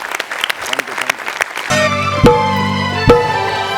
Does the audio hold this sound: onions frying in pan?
no